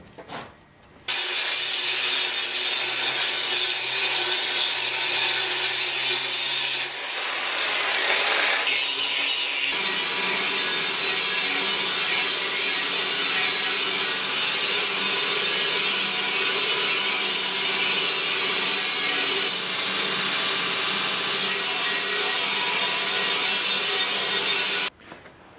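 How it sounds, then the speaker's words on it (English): A weld grinder works steadily over a pattern-welded sword blade after the forge scale is removed, giving a loud continuous abrasive hiss that shifts briefly in tone partway through and runs almost to the end. "After the scale is removed we go to the weld grinder."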